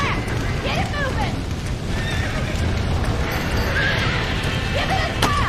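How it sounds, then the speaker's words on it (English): Horses in the video game Red Dead Redemption whinny and neigh several times over a steady clip-clop of hooves and game ambience, while a voice talks over the action. "Get that horse back. Get it moving."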